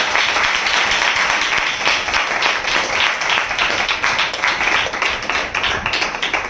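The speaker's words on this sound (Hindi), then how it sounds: "हम जोरदार ताली से उनका स्वागत करें।" Loud, sustained applause from a church congregation at a spiritual gathering fills the space, dense clapping continuing steadily throughout without pause.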